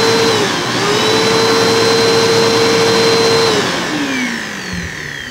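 Bissell PowerForce Compact upright vacuum cleaner running close and loud after a belt replacement, a steady motor whine with a rising tone that then winds down as it shuts off.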